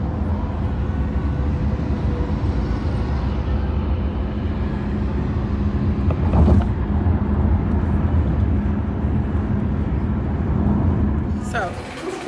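Airport ambience at San Francisco International, a broad steady roar of aircraft and terminal noise with a couple of brief sharp bumps, while people talk over it.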